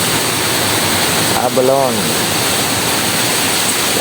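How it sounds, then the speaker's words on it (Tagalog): Water runs steadily through abalone tanks kept cold, a continuous broadband rush like a small waterfall with someone speaking briefly over it. "So ayan yung tubig namin para laging malamig yung aming tubig sa aming abalon."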